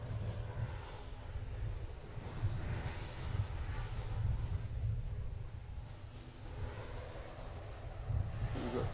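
A United airliner, flight 1880 bound for Newark, roars through its takeoff run at Princess Juliana Airport in Sint Maarten, a steady broad engine rumble that swells and fades slightly, heard alone without talk.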